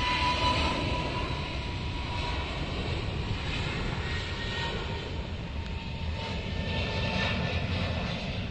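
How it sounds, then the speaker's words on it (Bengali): A large Vistara Airlines Boeing 737 bound for Mumbai passes close by near Dhaka with a steady, loud jet engine roar that holds throughout without pause. "এগিয়ে আসছে ভারতের বেসরকারি বিমান সংস্থা ভিস্তারা এয়ারলাইন্সের এই বিমান।"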